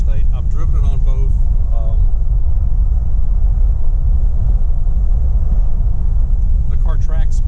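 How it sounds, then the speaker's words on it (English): A 1948 Packard Custom Eight cruises down the road in overdrive with a steady, loud low rumble of engine and road noise throughout, as someone talks over it at the start and end. "And then I'm in the overdrive. And we're just tooling down the road."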